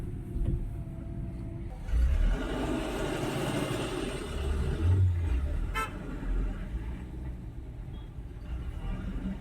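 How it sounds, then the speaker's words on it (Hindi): Weekend road traffic heading toward Himachal rumbles past steadily, with engines swelling as vehicles pass and a brief car horn toot partway through, under light background noise. "आप देखिए ये वीकेंड का जो है ट्रैफिक है, जो कि हिमाचल की तरफ जा रहे हैं लोग"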